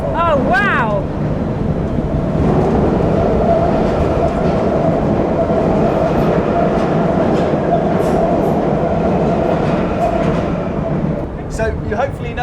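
A London Underground train runs loud and steady through the disused City Road station tunnel, with a continuous rumble and rattle for the whole stretch and brief squeals near the start and end; voices are faintly audible beneath it.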